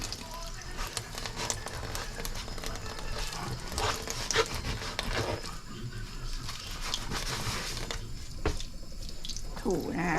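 Water running into a sink while a sponge scrubs off a stuck-on residue, a steady wet rush with rubbing and splashing throughout, fairly close.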